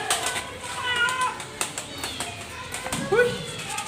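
A very hungry cat meows repeatedly while being fed, its cries rising and falling among background chatter, light tapping and people talking nearby.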